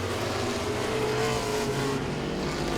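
Modified race cars roar around Langley Speedway on the final lap, a dense, steady engine drone with rising and falling pitch as the pack passes, loud and continuous with no talk over it.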